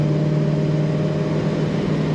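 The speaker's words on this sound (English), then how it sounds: "Great sound coming from this car" A 1965 Chevrolet Chevelle Malibu SS two-door hardtop engine running at a steady idle, a constant close, loud droning hum with no talking.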